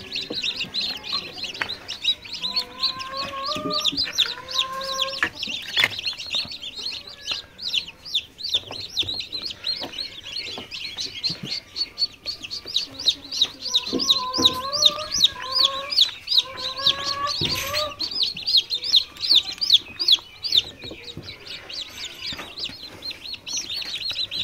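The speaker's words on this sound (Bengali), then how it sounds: "টাইগার, লেয়ার, ফার্মি মিশরি এবং দেশি মুরগি বাচ্চা" Chicks of tiger, layer, Fayoumi and desi chicken breeds cheep and peep continuously in a loud, dense chorus, with a few deeper hen clucks mixed in.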